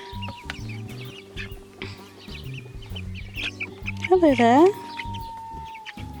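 Six-week-old chickens cluck and squawk nearby in a coop, with one loud squawking burst near the end and a person talking over the flock.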